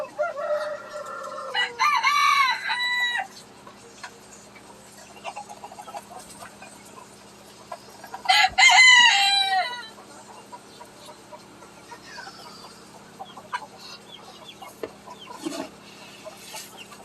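Chickens crowing and clucking in two loud bursts, with quieter clucks and faint calls scattered in between.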